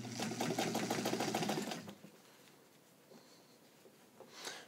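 A Necchi BU sewing machine fitted with a size 16 jeans needle stitches a long straight denim seam in a fast, steady whir for about two seconds, then stops and leaves quiet handling noises and a faint mechanical sound near the end.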